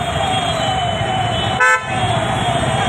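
A short car horn toot sounds once in a Pune traffic jam over a constant rumble of idling vehicles and road noise.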